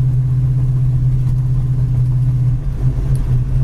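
A 1935 Ford engine idles steadily with its exhaust, a loud, close, even low rumble that holds unchanged throughout, with no voices over it.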